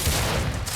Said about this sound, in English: Because you press it 1, 2, 3, and then you shoot off those 3 fireworks.